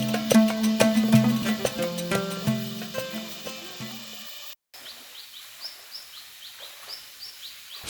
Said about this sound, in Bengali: শুনতে পাচ্ছেন পাখির ডাক